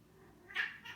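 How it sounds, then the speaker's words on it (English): Two cats fighting at home, giving off a rising yowl near the middle and a shorter cry just after, fairly close and over a quiet room. "Oh, hang on, my cats are fighting."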